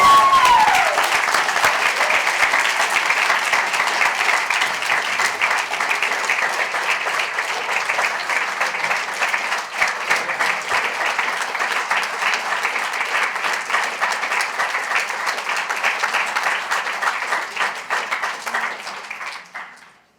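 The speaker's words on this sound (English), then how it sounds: "Give a round of applause!" A crowd gives a long, loud round of applause, dense clapping sustained for about twenty seconds at close range before fading out at the end.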